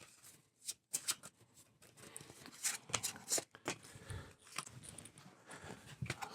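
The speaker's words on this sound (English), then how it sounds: "we'll give this a shuffle" A deck of cards from a deck-building horror board game is shuffled by hand, giving a series of quick, close, crisp riffling bursts with short pauses between them.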